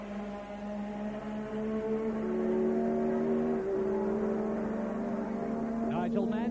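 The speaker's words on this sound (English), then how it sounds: "a right royal battle going on for 3rd place between the Renault-powered Ligier, the TAG-powered McLaren, and the Honda-powered Williams" Renault-powered Ligier, TAG-powered McLaren and Honda-powered Williams V6 Formula One cars battle for third place, their steady engine drone and rising whine continuous and loud, with a commentator talking over it.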